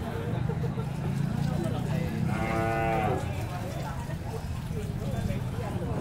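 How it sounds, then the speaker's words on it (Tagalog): A water buffalo moos once at a busy Philippine livestock market, a drawn-out harmonic call rising from steady crowd chatter and background noise. "Medium sizes ng kalabaw."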